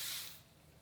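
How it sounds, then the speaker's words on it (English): Kenra Volume Spray mists onto hair in a single short aerosol burst, a bright close hiss that fades within half a second, followed by quiet room tone. "I like to just spray a light mist on each layer before I do it"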